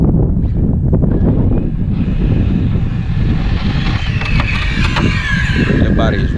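A Hobao VTE radio-controlled car screams at full throttle, a steady high engine whine with squealing and wind buffeting close to the microphone, while someone talks over it.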